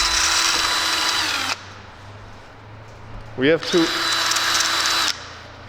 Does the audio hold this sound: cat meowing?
no